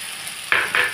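Slit green chillies sautéed in spice paste for tehari, two short, close bursts of hissing sizzle following a quiet moment, no talk.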